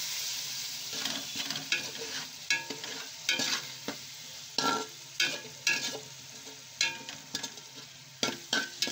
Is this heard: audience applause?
no